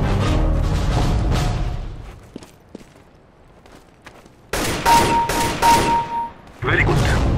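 Video game gunfire, bursts of rapid shots in a loud fusillade at the start, scattered single cracks through a quieter middle, then another heavy run of repeated shots near the end.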